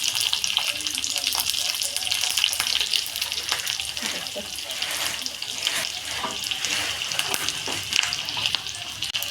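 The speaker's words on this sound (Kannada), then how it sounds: "ಒಗ್ಗರಣೆ ಕೊಡೋದು" Mustard seeds crackle and spit in melted ghee, tempering for a village-style sambar of basale and fenugreek greens; a dense, steady sizzling hiss with scattered pops runs close throughout.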